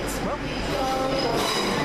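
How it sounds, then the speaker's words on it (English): A train rolls in with a steady rumbling roar and a faint squeal of wheels, filling the whole stretch at close range. "Right there is our train."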